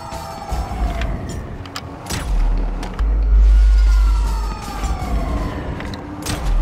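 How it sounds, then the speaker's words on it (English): An ambulance siren wails in the GTA 5 video game, its rising and falling tones over heavy car engine rumble and action noise, loud and close. "Oh, it's the ambulance!"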